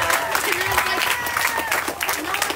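Audience applause at a Little League baseball rally, a continuous patter of clapping from a crowd, with voices and talk mixed in over the top.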